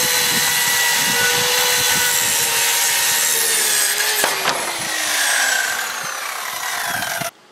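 A handheld skill saw rips through wood for a homemade pontoon dock build, a loud steady whine and rasp near the mic that holds for about seven seconds, dips in pitch under load, then cuts off abruptly.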